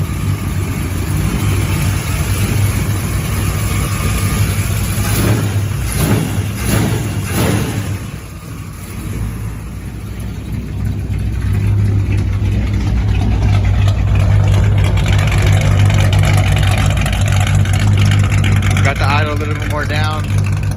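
Car engine at high idle in 25-degree cold weather after valve cover work, a steady low rumble running throughout with a brief dip midway and some clatter on top.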